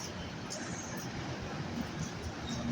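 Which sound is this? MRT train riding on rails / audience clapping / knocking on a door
MRT train riding on rails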